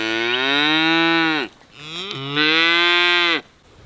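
Two long, loud moos from calves, close up, each drawn out for over a second with a short pause between them.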